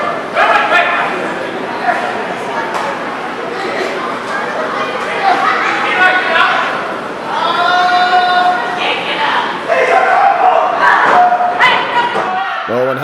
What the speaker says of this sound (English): the crowd here in Spencer, West Virginia, Route 33 Wrestling, love Tortuge Fuerte